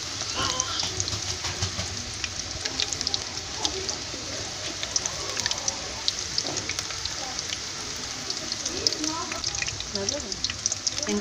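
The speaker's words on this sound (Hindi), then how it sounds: "इनको हम तकरीबन 7 से 8 मिनट फ्राई करेंगे, क्योंकि हल्की आंच में इसको फ्राई करना है" Pakoras sizzling and crackling steadily in hot ghee over low heat for Punjabi-style karhi pakora, a dense continuous fry noise close up with no pauses.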